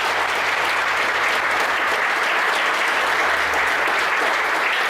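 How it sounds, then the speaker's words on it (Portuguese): A church congregation applauds in praise, steady dense clapping from many hands filling the room at full strength throughout, with no voices standing out. "Vamos aplaudir ao Senhor Deus."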